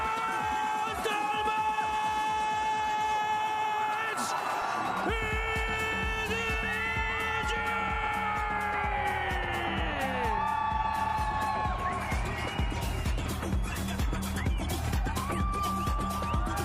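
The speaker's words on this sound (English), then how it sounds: "Dude, the crowd sounds pretty good." Esports event crowd cheering during a charity match stream, a loud sustained roar of voices and whoops under busy music and shouting that continues throughout.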